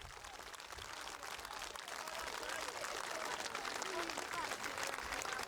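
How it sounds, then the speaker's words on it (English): Racecourse crowd applauding the filly Soviet Song after her win, a steady wash of distant clapping and cheering that holds and swells slightly across the whole stretch. "listen to the applause coming in here"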